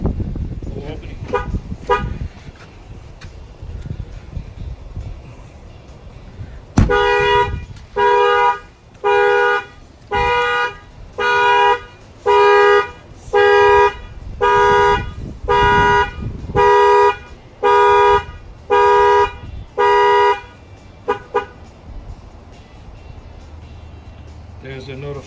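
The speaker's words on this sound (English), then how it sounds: "There's a notification that the alarm fired off." An Excalibur 1670 car alarm sounds on a car: after some handling noises, a loud horn honks in a steady, evenly spaced series of about a dozen blasts, then stops, with a voice heard around it.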